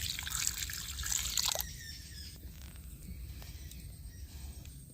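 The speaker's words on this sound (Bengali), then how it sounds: "আমটাকে এখন জলে দিয়ে দিচ্ছি।" Raw mango pieces dropped into a bowl of water: a brief splash and gurgle of running water up front, then a few faint drips and quiet trickles, close by.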